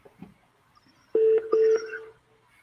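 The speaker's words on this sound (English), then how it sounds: "It was an interesting ringtone." A telephone ringback tone plays over the line during an outgoing cold call, two steady electronic rings in quick succession, fairly loud and close, with brief faint noise before them.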